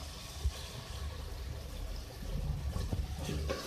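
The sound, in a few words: water poured into minced beef keema in a pot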